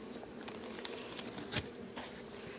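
Bees trapped inside a pocket buzz faintly and continuously, with a few brief louder flutters and taps breaking through the steady drone.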